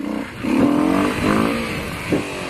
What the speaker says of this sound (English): that's all you get for a wheelie